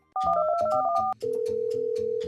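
A phone call is placed: a quick run of overlapping dial tones beeps for about a second, then a steady ringback tone pulses on, loud and close with no voices.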